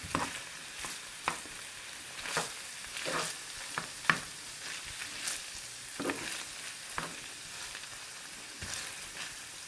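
Sloppy joe sauce of ketchup and barbecue sauce sizzling in a pan, a steady soft frying hiss broken by occasional louder spits and stirring scrapes.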